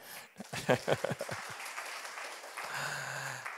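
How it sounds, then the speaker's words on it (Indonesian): A church congregation at a Sunday service claps for God in a short, loose burst of hand claps that quickly dies away, followed by a quieter stretch with a low tone and faint voices. "Tepuk tangan bagi Tuhan kita."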